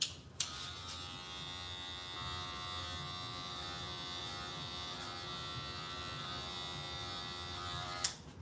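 Electric hair clippers fitted with a 1.5 (3/16 inch) guard cut hair for a low taper fade, a steady close buzz switched on with a click and off again after about eight seconds.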